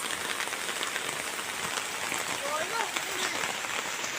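Steady rain falls beside a fish pond, a dense even hiss of drops on water and surfaces, close and continuous, with a faint voice briefly audible.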